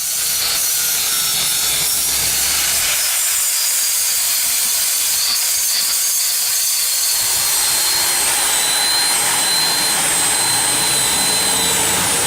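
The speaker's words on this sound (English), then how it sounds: "now we're going to start on sanding and grinding the epoxy" A power tool sands and grinds cured epoxy repairs on concrete steps, producing a loud, continuous abrasive roar with a high hiss that holds steady for the whole stretch, with no talking.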